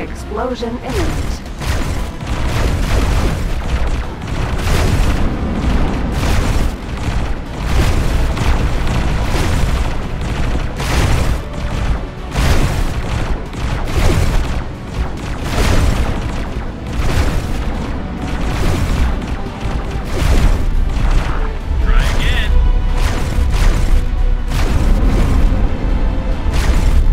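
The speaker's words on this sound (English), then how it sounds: "Explosion imminent." Explosions in the space game X4: Foundations during a capital ship battle: dense, continuous heavy booms and rumbling blasts layered over each other for the whole stretch, with voices heard among them.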